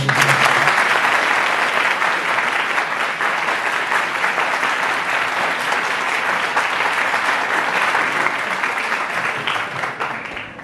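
Warm, sustained applause fills a hall at a law school event, a dense, loud wash of clapping from a large audience that holds steady and tapers slightly at the end.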